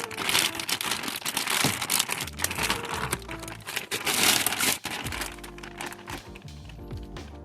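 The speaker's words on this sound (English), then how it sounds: "open up the brand new throttle body." Packaging around a brand new Chrysler 300 throttle body crinkles and tears close up, dense rustling and crumpling that goes on for several seconds, with no talking.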